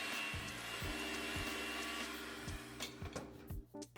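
An electric mixer beats pineapple coconut cake batter with crushed pineapple, a steady humming whir with a rhythmic knocking that runs for about three seconds, then sputters and stops, close and without talk.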